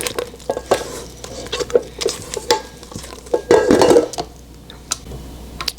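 A stand mixer's paddle attachment works thick cheesecake batter for a Snickers cheesecake, giving close, uneven slapping and scraping with irregular clanks against the bowl, swelling louder near the middle.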